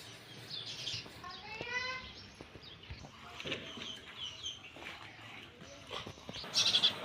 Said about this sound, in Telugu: ఏదో పొద్దున్నే లొల్లి, పక్షుల లొల్లి చాలా మంచిగా అనిపిస్తుంది కదా